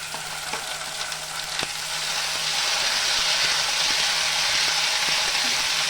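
Chopped onion frying in oil with ginger, green chili and garlic paste, a loud, steady sizzle that swells and thickens after a couple of seconds, with a few faint utensil clicks early on.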